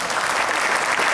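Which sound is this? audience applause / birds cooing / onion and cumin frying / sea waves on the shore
audience applause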